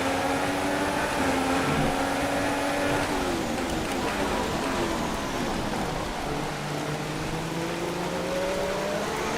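Steady rain hiss in the F1 2016 racing video game blends with a racing car engine droning and shifting pitch beneath it, continuous and fairly loud throughout.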